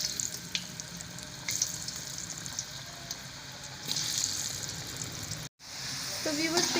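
Potato fries fry in hot oil with a steady, soft sizzling hiss and some occasional louder crackles. A brief dropout and a faint tonal sound come near the end, and the whole sound is fairly quiet.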